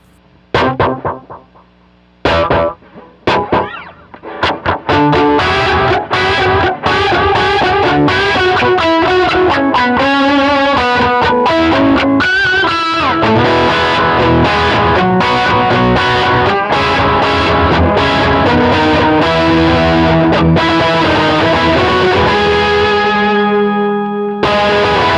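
An electric guitar played through a worship pedalboard with delay and distortion, sustained chords and notes ringing with repeating echoes, loud and continuous after a few opening plucks, fading out at the end.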